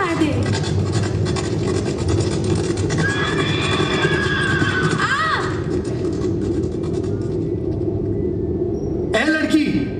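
Horse whinnying loudly during a live stage drama about Ahilya Bai Holkar, with trailing hoof clatter and crowd noise, ending in a second sharp neigh.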